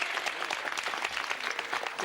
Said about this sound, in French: petite série d'applaudissements